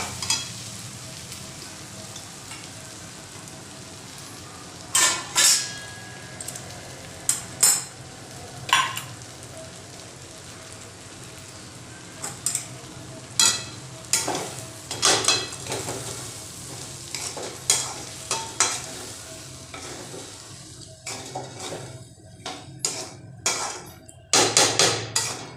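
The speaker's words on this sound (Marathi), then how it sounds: "भाजलेला रवा टाकायचा आहे. छान परतवून घ्यायचं याला." Roasted semolina is stirred in a pan for Maharashtrian upma, with repeated scraping strokes of a spoon against the pan over a soft, steady sizzle, close and without talk.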